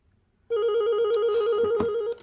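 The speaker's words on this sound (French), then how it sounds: "Téléphone qui sonne." A telephone bell rings once, a single loud, close trill lasting under two seconds in an otherwise quiet indoor room, with no talking.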